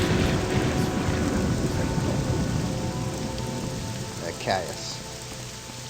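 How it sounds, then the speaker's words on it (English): Steady rain pours down in the video game Morrowind, a dense hiss filling the scene at fairly loud level, while a voice speaks briefly over it. "Hey, there's the rain."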